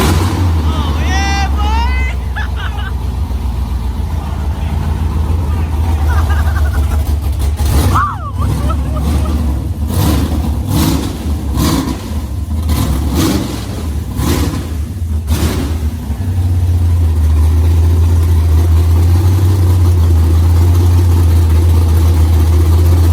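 A Pontiac GTO with a freshly swapped engine, cold air intake and new fans turns over and fires up, then runs loud and rough, climbing through a series of sharp throttle blips before settling into a deep, steady idle, with people talking nearby.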